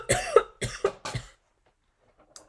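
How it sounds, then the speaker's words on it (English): A woman coughs three times in quick succession, fairly loud and close, during an indoor card-making craft class, followed by silence. "have had this cough that I have for like a month now"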